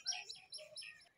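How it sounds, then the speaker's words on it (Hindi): Small birds chirp and twitter outdoors at dusk, a quick series of faint, high tweets at some distance, heard alone without talk. "ये चिड़िया चहका रही है सब चारों ओर से"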